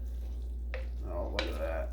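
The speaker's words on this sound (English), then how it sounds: "I'm going to give this a stir." A spoon stirs Italian chicken and vegetables in a slow cooker, making two short, quiet scraping swishes over a low steady hum.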